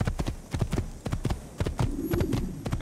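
Rapid hoofbeats pound in a quick galloping rhythm, close and distinct, with a faint hum underneath, from a horse in the video game Assassin's Creed.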